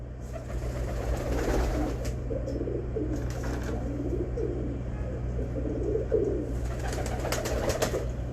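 A prized Pakistani pigeon coos softly and repeatedly over a steady low mechanical hum, the throaty calls fairly close and continuous throughout.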